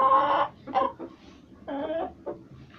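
A silkie hen clucks in short bursts, a few close, moderately loud calls separated by brief pauses in an otherwise quiet setting.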